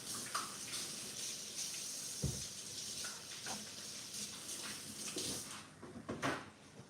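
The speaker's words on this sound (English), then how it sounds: "I'm gonna go wash my hands real quick" Tap water runs steadily from a kitchen faucet during handwashing, a continuous broad hiss with a few splashes and clunks near the end, close and moderately loud with no talking.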